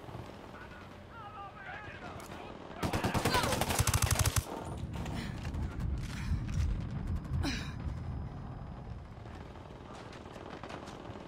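Automatic gunfire in Ghost Recon Wildlands crackles in a loud, dense burst, then continues as scattered shots and clatter under the ongoing game sound.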